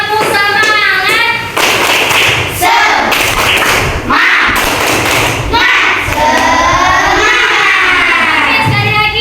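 Elementary school class performing the "tepuk semangat" clapping chant, loud bursts of children's hand claps and thumps in a rhythmic pattern, mixed with chanting voices in a classroom.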